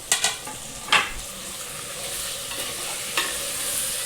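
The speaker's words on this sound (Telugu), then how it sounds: "బెండకాయలు ఫ్రై అయిన తర్వాత ఇప్పుడు టమాటాలు వేసుకోవాలి" Tomatoes tumble into okra frying in a pan, giving a few sharp clatters and a stir over a steady sizzle. No voices are heard.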